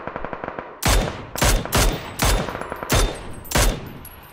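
Gunfire in the battle royale game PUBG: six loud, sharp broadband shots spaced about half a second apart, ringing out over a low background hum with no talk.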